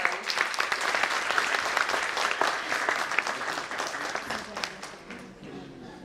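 An audience at a literary panel discussion applauds a speaker being introduced, a dense, loud burst of clapping that holds steady for several seconds before beginning to thin out.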